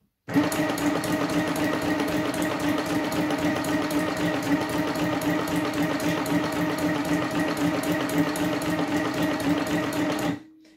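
Stitch Happy sewing machine running steadily at full pace with the foot pedal pressed, a loud continuous mechanical whir and rapid needle clatter lasting about ten seconds before cutting off.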